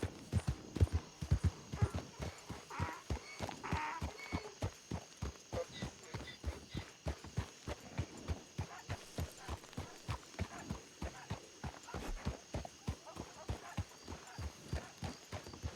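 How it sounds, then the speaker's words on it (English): Steady, rhythmic clip-clop of donkey hooves walking in the video game Red Dead Redemption 2, close and continuous throughout, with faint background game ambience. "Fuck's a donkey doing here?"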